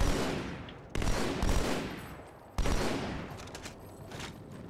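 Dense gunfire crackles in the video game Halo 2, with sharp bursts starting abruptly twice and decaying into a noisy wash of shots and battle clatter. No one speaks.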